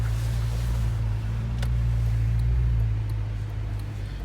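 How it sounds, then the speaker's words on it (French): Audi RS4 engine rumbling steadily through an open car window, a deep continuous drone with a few faint clicks and a brief sharp tick partway through, fairly loud and without talk. "Et je vais ouvrir la fenêtre, comme ça on entend bien"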